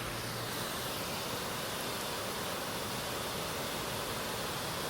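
Overflow of Afincho Ber dam after heavy rain in Addis Ababa, a dense unbroken roar of cascading water, loud and steady with no pauses or other sounds.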